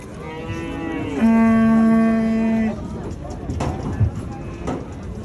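A loud, long cow moo rings out close by amid the busy Uzgen livestock market in Kyrgyzstan, with people talking and hooves shuffling in the background.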